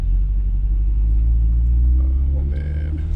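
A 2020 Chevrolet Corvette C8 Z51 gives off a deep, steady low rumble as it pulls away, filling the whole stretch close to the listener.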